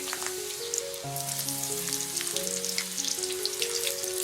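Chopped onion fries in a pan with a steady, dense sizzle and scattered pops, close and continuous, while a humming tonal drone runs underneath.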